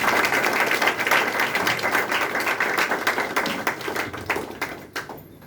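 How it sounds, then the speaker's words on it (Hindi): A church congregation at a Sunday service claps together for God, dense overlapping applause filling the room and gradually thinning out toward the end. "एक ताली हो सकती है उस परमेश्वर के लिए"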